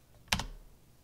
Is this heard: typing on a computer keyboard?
yes